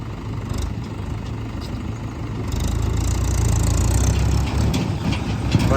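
A Mahindra 575 tractor engine idles nearby with a steady low rumble that grows slightly louder and rougher partway through.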